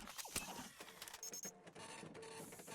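A printer in the Space Station 14 game whirs and clicks while printing an automation kit, a busy burst of mechanical ticks and buzzing over a short stretch.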